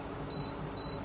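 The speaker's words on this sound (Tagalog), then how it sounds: "And then, timer" Kitchen timer used while steaming kutsinta, two short high electronic beeps spaced about half a second apart, fairly clear over a soft room hum.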